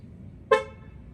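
A Volkswagen Golf Alltrack gives a single short horn chirp as its keyless entry locks the doors, a brief clear toot over quiet background.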